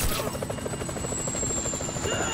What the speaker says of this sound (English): Like, the chopper, everyone's gonna know we're here.